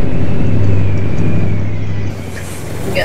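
Mack Superliner daycab truck cruising on a highway in American Truck Simulator, a steady loud engine rumble and road drone that dips slightly partway through, with no talk.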